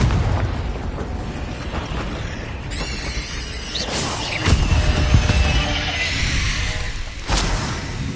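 Booming blasts of the Confringo spell in Hogwarts Legacy, several loud explosive bursts rolling over a constant rumbling game backdrop, with sharp hits near the middle and end.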